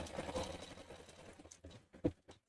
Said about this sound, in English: So I'm going to hit start. So it's going to stitch those 3 little circles for us